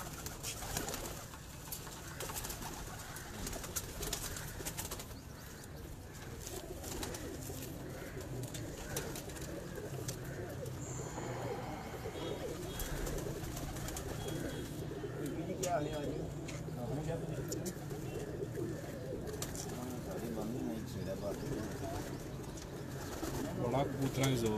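Pigeons coo steadily on a rooftop among other bird calls while people talk nearby throughout, the cooing continuous and moderately close.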